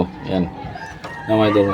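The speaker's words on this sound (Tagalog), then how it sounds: "Yan yung manok natin mga idol na nangingitlog." An egg-laying hen clucks in repeated throaty calls, close and fairly loud, while someone speaks briefly over and between them.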